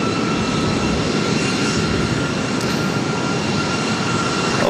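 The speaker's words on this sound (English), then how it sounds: "This is Alaska SkyWest, flight 3361, heading to Portland in an E175." An Alaska SkyWest Embraer E175 jet bound for Portland at LAX produces a loud, close, steady broadband jet-engine roar with a faint high whine, unbroken and with no talking.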